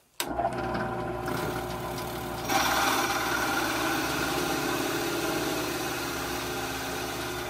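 A steady mechanical whir runs continuously after a sharp start, growing slightly louder partway through, as a drill works into a wooden wheel.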